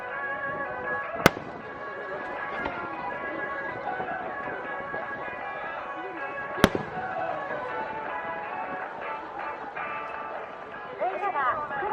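Fireworks at the Adachi fireworks festival go off as a shell designed as a bright red apple pierced by golden lines bursts, with two sharp bangs amid crackling and crowd noise while people talk throughout.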